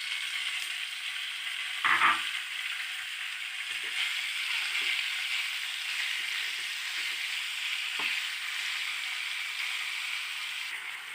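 Chicken frying in a pan for a chicken and vegetable lasagna, a steady broadband sizzle throughout with a few brief utensil scrapes and clinks, close and alone with no talk.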